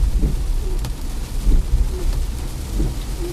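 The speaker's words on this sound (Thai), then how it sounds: "ตอนนี้ก็ประมาณบ่ายสอง ฝนตกเยอะเลยค่ะ" Heavy afternoon rain falling steadily around a car driving near Bang Pu, Samut Prakan, a loud continuous wash of rain with low rumbles and no talking.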